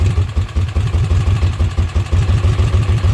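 A Kawasaki Mule utility vehicle engine idles roughly up close, its low rhythmic chugging uneven and lumpy, with a clattery mechanical edge and no voices.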